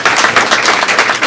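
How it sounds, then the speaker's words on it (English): A high school audience at an alumni career panel applauds: a brief, dense burst of many hands clapping together, loud and close, with no talk over it. "Can we give our panelists a round of applause at the end of our panel?"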